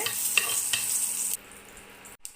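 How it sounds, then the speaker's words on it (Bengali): Flaxseed dry-roasting in a pan while it is stirred, a steady crackling sizzle close by that abruptly drops to a quieter hiss partway through. "ফ্ল্যাক্সিডটা হালকা রোস্ট হয়ে গেছে।"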